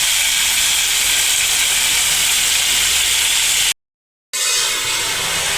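Vasheti greens dropped into a pan of hot garlic, cooked village style, give a loud, steady broadband sizzle and hiss that cuts out abruptly for a second before resuming just as strongly.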